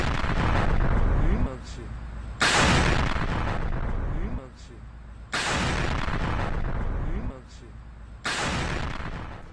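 Explosions from an air strike in Iran: three massive booming blasts a few seconds apart, each a sudden loud broadband roar that slowly decays, with a steady rumble between them.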